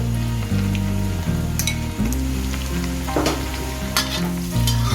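Beef fried rice sizzles steadily in a pan with butter, a loud continuous frying hiss with scraping stirs throughout, no voices.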